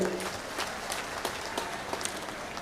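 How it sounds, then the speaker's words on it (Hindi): Crowd at a political election rally in Assandh, Haryana applauds, a faint, sparse patter of clapping with scattered sharper claps, fairly distant and fading slightly. "उनके लिए भी जोरदार तालियों से स्वागत करें।"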